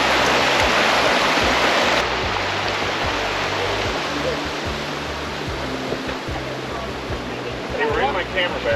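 River flowing nearby as a steady, full-bodied rush of water, constant and fairly loud, with faint voices and small handling noises over it toward the end.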